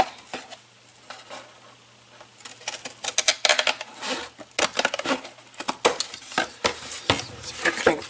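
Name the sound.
cutting a V into a shoe box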